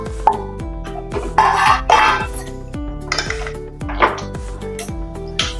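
Stuffed green chilli curry with yogurt, cream and leftover potato filling stirred in a pan, giving scattered scrapes and clinks of a spoon against metal over steady background music.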